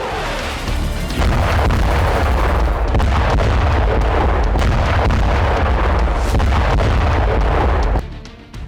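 A Russian bomb attack produces a loud, sustained roar of explosions with deep rumbling booms and crackling bursts, continuous for about eight seconds before abruptly cutting to quieter sound.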